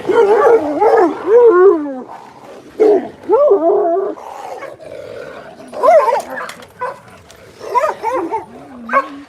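Several dogs yip, whine and bark excitedly in bursts, close by, a noisy greeting with rising and falling whimpers.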